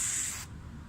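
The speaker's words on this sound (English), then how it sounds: "I'm going to spray some in this thing." A close, loud hiss from a WD-40 aerosol can sprays onto a car headlight for about half a second, then cuts off into faint background noise.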